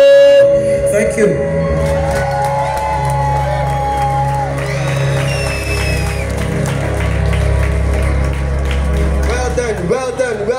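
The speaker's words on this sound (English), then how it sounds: "Another round of applause, man." A crowd at a young talent show in Ostins Bay garden cheers and whoops over loud amplified music, a constant mass of shouting and clapping that runs the whole length.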